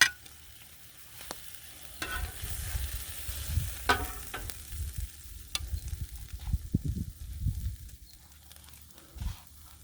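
Corned beef hash and steak sizzle on a hot griddle, a steady crackling fry with scraping and clatter of a spatula now and then, close and fairly loud, no voices.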